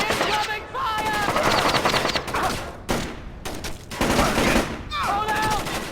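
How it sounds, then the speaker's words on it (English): Sustained enemy gunfire in the stealth video game Splinter Cell: Chaos Theory, dense automatic bursts and shots with whizzing ricochets, loud and continuous, interrupted by brief pauses, mixed with shouted voices. "I'm taking fire! He's reloading!"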